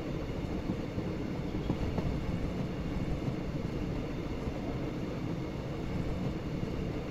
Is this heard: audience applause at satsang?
no